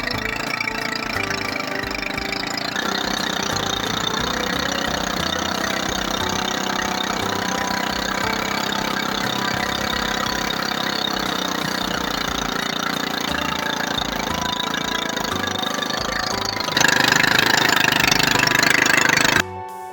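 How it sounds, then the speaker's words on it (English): A motorized cassava grater crushes peeled cassava for garri production, a steady loud mechanical drone running throughout, rising in intensity near the end before cutting off abruptly. "Here, the cassavas are grated or crushed with a machine to reduce the particle sizes."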